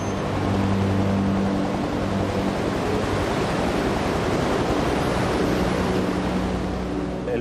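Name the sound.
storm waves at sea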